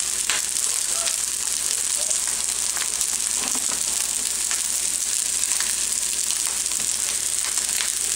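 Shiitake mushroom, green onion, carrot and asparagus sizzle in a pan for omurice, a steady soft crackle with occasional stirring scrapes, close and even throughout with no talking.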